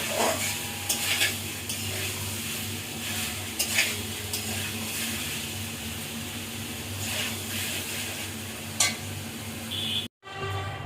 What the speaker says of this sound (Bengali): এখন আরেকটু আমি এগুলোকে কষিয়ে নিব, নিয়ে তারপরে জল ঢেলে দিব।